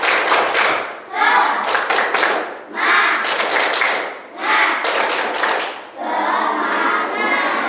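A primary school class claps a fast rhythmic spirit clap, bursts separated by short pauses, with children's voices shouting along between claps.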